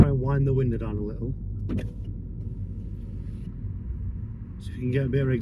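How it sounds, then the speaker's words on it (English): Electric window on a Mini Cooper S lowering, a steady motor whine and creak heard inside the car under road rumble, with a person talking at the start and end. "Try and wind the window down a little,"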